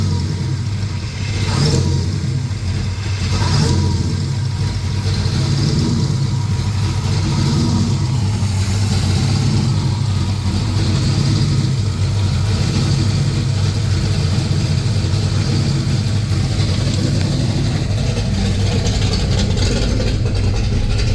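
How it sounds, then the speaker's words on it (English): A Ford Ranger fitted with an LS engine runs at a raised, unsteady idle during repair work, a loud, continuous engine drone heard close up with no talking over it. "just crack the idle all the way up. I can get the idle high"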